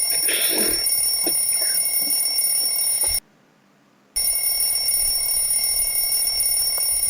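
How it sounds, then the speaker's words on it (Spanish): An alarm clock rings with a steady, shrill electronic tone, loud and close, cutting out for about a second before resuming, while a faint voice and some background noise sit under it early on. "Y le suena el despertador de vuelta."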